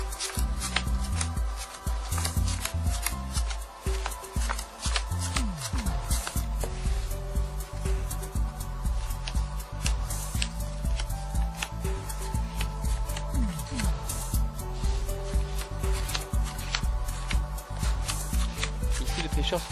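Playing cards are dealt by a cheater working a double deal, with repeated soft slides and flicks of cards across a table, close and continuous, under a voice.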